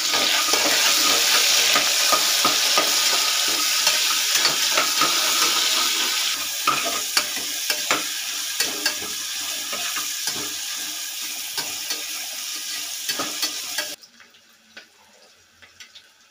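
Onions and green chillies frying in a pan while making chicken biryani with amaranth leaves, a loud steady sizzle with stirring scrapes that thins out and drops away near the end, leaving only scattered faint clinks.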